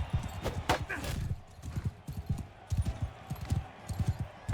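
Horse galloping in the game Mount & Blade II: Bannerlord, a rapid run of thudding hoofbeats with scattered clanks, mixed under combat noise and a voice talking.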